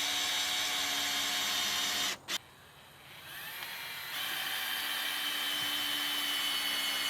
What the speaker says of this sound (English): Now I'm going to mount these to that 4x4 using 3-inch deck screws.